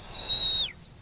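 A shepherd's single long, steady whistle, commanding a border collie to stop in the Scottish highlands, held high and clear for well over half a second before dropping away at the end.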